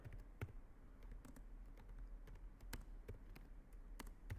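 A computer keyboard is typed on at a steady, light pace while building a Moodle question bank, the scattered key clicks faint and close against a low room hum.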